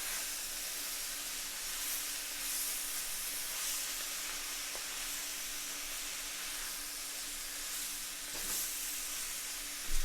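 Shrimp and vegetables sizzle steadily in a hot pan after the heat is cut, a continuous bright hiss with faint scrapes of stirring, close and alone without talk.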